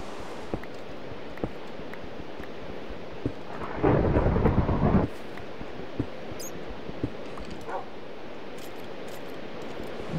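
A thunder rumble from a storm in Minecraft rolls in for about a second amid steady rain-like hiss, with faint clicks and brief game noises around it.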